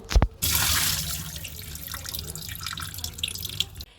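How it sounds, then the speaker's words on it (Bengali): Water from a tap runs into a sink as rice is washed and drained, with a brief clatter at the start and then a steady close splashing flow that thins toward the end. "এখন 2 কাপ পরিমাণ চিনি গুঁড়া চাল ধুয়ে পানি ঝরিয়ে নিব"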